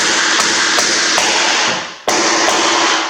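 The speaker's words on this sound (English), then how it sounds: "It's hard hammering through knots, so that's why it was a little harder on that one." A hammer drives nails into a wooden bat house with a few sharp, close taps over a constant outdoor hiss, then one harder strike after a brief dip.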